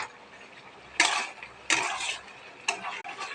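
Ridge gourd being stir-fried with a spice paste of cumin, ginger and tomato in a pan, with a few loud bursts of sizzling and utensil scraping over a quieter background hiss.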